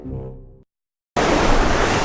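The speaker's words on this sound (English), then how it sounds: "this is the reaction of my camera being fully submerged in the Pacific Ocean" A camera plunges fully underwater in the Pacific Ocean: a muffled low rumble gives way to a sudden dead silence, then a loud, steady rush of surf-like broadband water noise fills the rest.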